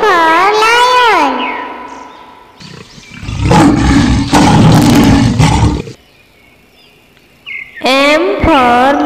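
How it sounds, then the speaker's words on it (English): A lion's roar swells up loudly and stays close for a few seconds, alone between stretches of bright, sung voices. "L for lion."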